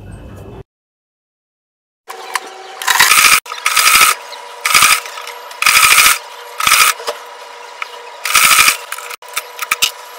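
A sewing machine stitching an Ankara jumpsuit: close, loud bursts of rapid mechanical stitching in short runs separated by brief pauses, with clicks between bursts and no talk.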